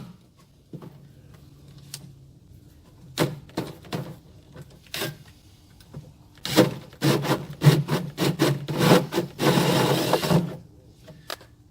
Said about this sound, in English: This is a 2-inch hole saw.